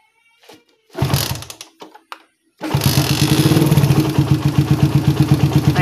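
Carbureted motorcycle engine after a carburetor needle-clip adjustment, a few failed cranks, then starting and settling into a loud, close, even idle with a steady rhythmic pulse.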